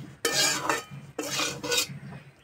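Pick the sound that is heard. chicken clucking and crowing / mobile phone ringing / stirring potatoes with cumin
stirring potatoes with cumin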